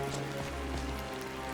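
In the game Skyrim, rain pours on a surface as a dense, constant patter, loud and close, with no other sound.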